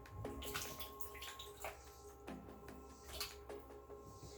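Cut okra is rinsed under running water, with faint, close splashing and trickling broken by a few sharp clatters and knocks from handling.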